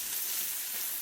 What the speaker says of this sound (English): in with our mushrooms. Good sizzle.